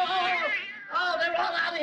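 Cats meow in a Three Stooges comedy short: two drawn-out, close whining meows follow one another with a short dip between them.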